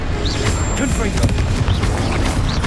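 Confringo fire spell blasts in the Hogwarts Legacy video game, a dense run of booming impacts and crackles with several bursts over a continuous noisy backdrop of combat, with voices shouting in between.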